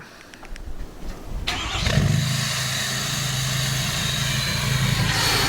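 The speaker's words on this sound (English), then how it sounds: "Cold start." A 6.7 Powerstroke diesel truck with a deleted 5-inch straight pipe cold starts: a short crank, then the engine fires and settles into a loud, deep, rumbling idle that carries on steadily.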